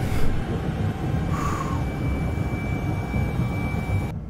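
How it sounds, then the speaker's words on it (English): An outer airlock opens in the sci-fi survival game Alien: Isolation, giving a steady, loud mechanical rumble with a brief hiss partway through and a thin whine above, ending abruptly. "I'm opening the outer airlock, but it'll take time."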